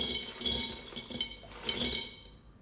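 Leca clay pebbles clink and rattle against each other while a plant pot is filled, coming as several close, light bursts of clatter.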